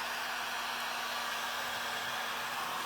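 A hair dryer blows steadily at close range over a freshly painted decoupage tray, giving a constant, loud airflow roar with a faint motor whine and no pauses.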